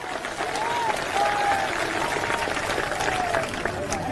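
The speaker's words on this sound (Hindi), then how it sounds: "एक बार जोरदार तालियां" A rally crowd at an Indian election campaign event applauds its singers, a steady wash of distant clapping throughout, with faint voices and a thin tonal sound riding over it.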